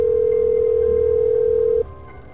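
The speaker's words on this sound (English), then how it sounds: "I hear the dial tone." A steady, loud telephone dial tone hums continuously for nearly two seconds, then cuts off abruptly, leaving a quieter low background.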